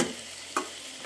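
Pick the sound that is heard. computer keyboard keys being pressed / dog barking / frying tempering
frying tempering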